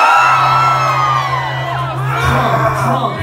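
Concert crowd at a band's live show cheers and whoops loudly and continuously, a dense wash of shouting voices with rising whoops, close and full throughout.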